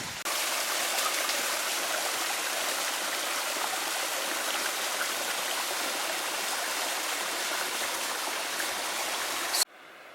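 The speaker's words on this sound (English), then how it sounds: "I turned the corner and can hear water going down the mountain." A mountain stream in the Sierras rushes steadily and close by, a continuous broad wash of flowing water that holds for the whole stretch before cutting off abruptly.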